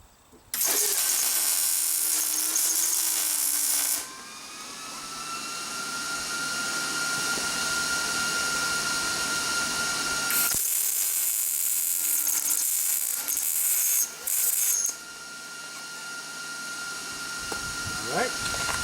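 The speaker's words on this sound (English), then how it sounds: "let's weld these tie downs in place. We'll tack them on first." Tack welding steel tie-downs onto a sailboat trailer frame: two long, loud, harsh buzzing welds with a steady electrical hum between them, close by, with no talking.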